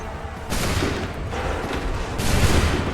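Musket volleys roar through a battle scene in Assassin's Creed 3, a dense, booming rumble of massed firing that swells in waves, loud and close.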